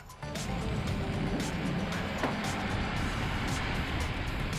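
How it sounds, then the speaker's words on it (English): A Mercedes-Benz eSprinter electric van drives along with a steady, muted road and cabin hum, no engine roar, continuous throughout after a brief quieter start. "this is a really quiet vehicle"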